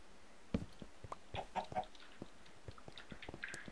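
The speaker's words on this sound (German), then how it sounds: "Alter, ihr dummen Hühner." Chickens cluck in a Minecraft game, giving a scattered series of short, fairly faint clucks and squawks across a few seconds with no talk over them.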